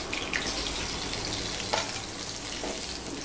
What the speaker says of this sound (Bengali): একটু তেলের পরিমাণটা বেশি দিয়েই আমি আলুটা ভাজছি